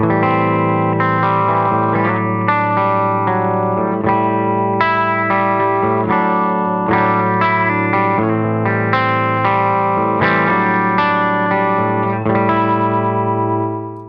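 Electric guitar through a Rainger FX Mini Drone pedal into a Benson Amps Monarch Reverb Plus amplifier plays a string of distorted, ringing chords and notes with a lush reverb wash, each one sustaining before fading out at the end.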